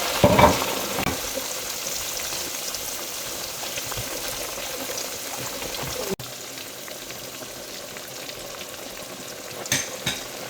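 Fish pieces marinated with turmeric and chilli fry in hot oil, giving a loud, steady crackling sizzle close by, with a brief clatter midway and a few stirring knocks near the end.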